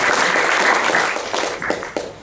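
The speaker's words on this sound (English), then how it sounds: "Let's have a warm applause for Kenneth" Audience applause for a speaker named Kenneth taking the stage at a Python conference talk, a dense wash of clapping that stays loud and steady before thinning out toward the end.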